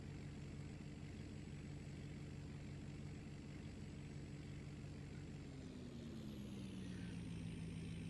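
Truck engine running in Farming Simulator 19, a steady low rumble with a constant hum that drops smoothly in pitch partway through, close and continuous.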